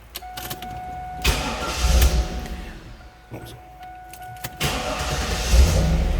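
A 5.7-liter V8 in a 1996 Pontiac Trans Am WS6 with an automatic transmission cranking and catching twice, each start a rough low rumble after a chime and clicks, with a short pause between attempts.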